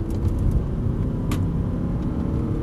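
An Audi R8 accelerates on the Dunsfold race track, its engine a loud, continuous low rumble heard from inside the car, steady throughout with a brief faint tick partway through.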